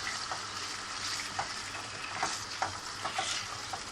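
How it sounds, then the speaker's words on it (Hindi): A spoonful of yogurt fries in hot oil in a pan for egg masala chicken, a continuous crackling sizzle broken by several soft stirring scrapes, close and even. "1 स्पून दही डाल दें और इसे भून लें।"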